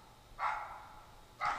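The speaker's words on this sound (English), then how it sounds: "It's my dog over there, so he's barking at a squirrel, I'm sure." A dog barks at a squirrel somewhere nearby: two short, fairly faint barks about a second apart, heard alone against a quiet background.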